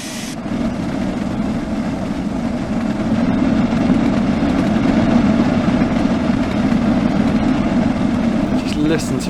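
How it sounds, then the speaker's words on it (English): A steam locomotive roars along steadily in Train Sim World, hauling a train on the Manchester to Liverpool Lime Street line. A loud, sustained low chuffing rumble runs throughout the stretch. "Listen to our train roaring away as we pass a signal box"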